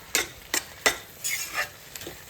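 A spoon scrapes and stirs bombil bhurji with chopped coriander in a pan, giving about six short, sharp scraping strokes in uneven rhythm over a faint sizzle, close and fairly quiet.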